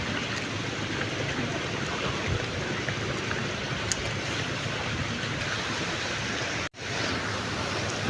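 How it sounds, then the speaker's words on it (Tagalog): Heavy outdoor rain during a fishing trip, a dense, steady roar of rainfall that stays loud throughout, broken only by one brief dropout near the end. "Palakas na yung ulan"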